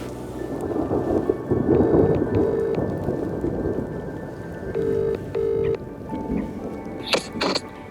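A storm rumbles beside a lake with a low, sustained roll of thunder and steady rain, plus a few short electronic beeps near the end.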